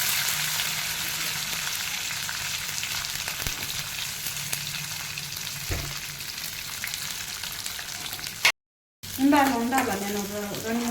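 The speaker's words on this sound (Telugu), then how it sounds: "ఆనియన్ కొంచెం ఎరుపయ్యే వరకు వేయించుకోవాలి." Onions and curry leaves sizzle steadily in hot oil for radish chutney, a continuous close frying hiss with occasional stirring knocks, briefly cut to silence before a voice speaks over the sizzle at the end.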